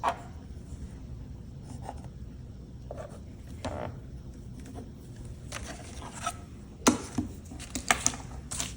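A pencil makes marks on paper while a birthday card is laid out, giving soft scratchy strokes in scattered short bursts, quiet and close, with a few sharper taps near the end.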